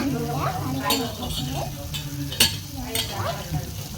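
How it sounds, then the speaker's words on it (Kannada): A soya chunk mixture with fresh cream is stirred in a hot pan, giving a steady sizzle with rhythmic scraping strokes and an occasional sharp clink of the spoon against the pan. "ಈಗ ಅದನ್ನ ನೀಟು ಮಿಕ್ಸ್ ಮಾಡ್ಕೊಬೇಕು"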